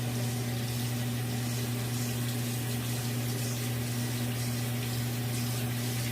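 Running water rinses hair dye out of hair in a continuous, even rush with a low pump-like hum beneath it. No voices are heard.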